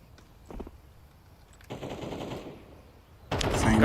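AK-47 automatic fire in a Counter-Strike esports match, a short early burst followed by a longer sustained volley, then another loud burst at the end, with no talk over it.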